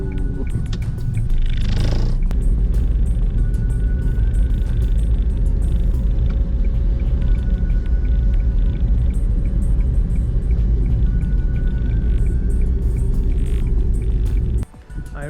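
A car drives steadily on the road to a thrift store, its engine and tyre rumble a low continuous drone from inside the cabin, ending with a sudden thump and a brief drop.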